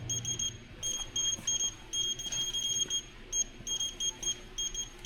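A handheld scanner gun, trigger held down while sweeping along pallets of beehives in an indoor wintering room, emits a quick series of high, bright beeps in irregular clusters over a quiet hum.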